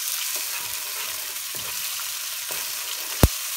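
Garlic frying and browning in a pan for burong isda, a continuous soft sizzle with faint stirring taps and one sharp click near the end, close and steady, no talking.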